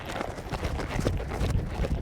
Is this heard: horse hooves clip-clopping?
yes